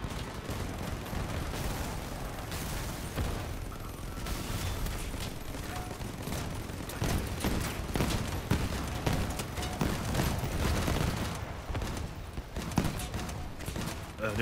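Rapid minigun fire from a video game spider robot mounting triple Miller miniguns rattles on in dense, continuous bursts with heavy mechanical clatter, loud and close throughout.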